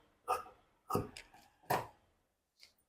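Blouse fabric is cut with a few crisp, close snips, three distinct cuts spaced about a second apart followed by a fainter fourth, in an otherwise quiet room.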